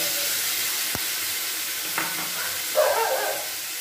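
Mustard, green chilli and poppy seed paste being stirred with drumsticks in a pan, a soft steady sizzle with a few faint scrapes and clicks of the spoon, no one talking.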